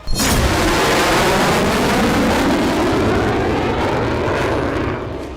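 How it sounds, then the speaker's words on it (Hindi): A fighter jet, an F-16, roars loudly overhead in a sustained, near, broadband rumble that holds steady for about five seconds before easing slightly at the end. "आसमान में गुर्राता ये फाइटर जेट जो अमेरिका का गुरूर है"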